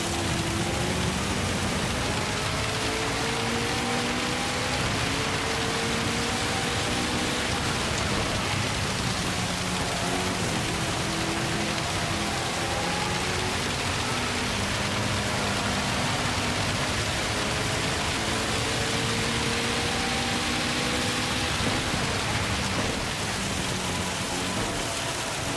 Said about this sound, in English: Wishing I wasn't in the rain.